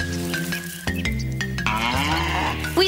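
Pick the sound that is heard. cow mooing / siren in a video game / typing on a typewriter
cow mooing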